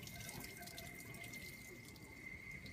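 Tap water running steadily into a sink as hands are rinsed under the faucet, a continuous broadband splashing rush with no talk over it.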